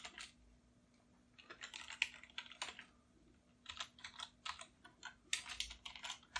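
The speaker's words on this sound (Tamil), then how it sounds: "நான் இப்போ இங்கே ஹவ் ஆர் யூ அப்படின்னு மெசேஜ் டைப் பண்ணுறேன்." Keys clatter on a PC keyboard as a short message is typed, with bursts of quick keystrokes separated by brief pauses, close and fairly quiet with no voices.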